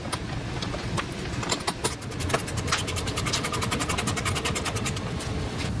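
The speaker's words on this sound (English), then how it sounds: "we can put in our final screw on that inner mounting point" A screw being driven into the inner mounting point of a mud flap on a Tesla Model Y, giving a steady mechanical whir with rapid clicking bursts, close and continuous throughout.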